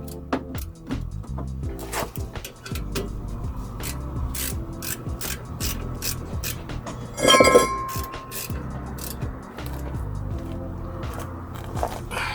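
A ratchet wrench clicks in quick repeated runs while working on Subaru Baja brakes, with metallic clinks and a brief louder metal scrape midway.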